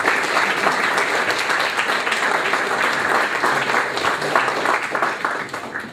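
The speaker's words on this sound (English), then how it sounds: "So I'd like to give a big round of applause to them" A large audience at an awards night applauds COVID officers with a dense, steady round of clapping that stays loud and close from start to finish.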